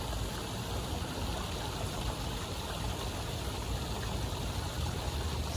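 River water flowing steadily as a broad, continuous rush, with no breaks or distinct splashes across the whole stretch.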